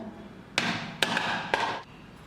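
Three sharp, heavy knocks about half a second apart, each followed by a brief resonant ring, as a block of palm jaggery is pounded on a hard surface.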